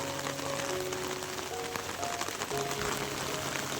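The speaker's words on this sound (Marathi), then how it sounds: "पाऊस बघताय रिमझिम रिमझिम चालूच आहे" Steady, light monsoon drizzle falls over misty Konkan hills in the morning, a soft even patter of rain with faint tonal calls threaded through and no one speaking.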